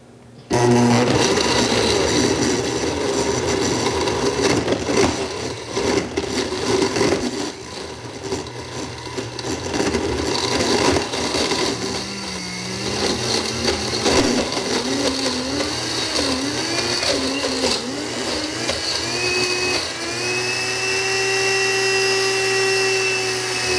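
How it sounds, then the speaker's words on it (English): A high-powered blender roars steadily on high for over twenty seconds, blending dairy-free, sugar-free soft-serve ice cream, its motor pitch wavering and then rising into a smoother whine near the end. "all you do is blend it on high until it comes together"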